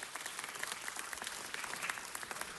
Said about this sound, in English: How about a big round of applause for Mr. Paquette and Sony Pictures, who are funding this whole program.